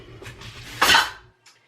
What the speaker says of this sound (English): It's a lot of onions too. And I'm going to put them all in here